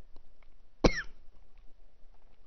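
One short, sharp cough sounds close to the microphone in an otherwise quiet room.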